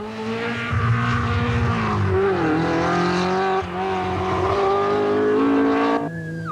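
A rally car of the Clan Crusader kind on a Tour of Mull stage, its engine loud and close, revving steadily with rising and falling pitch through gear changes, then easing off at the end.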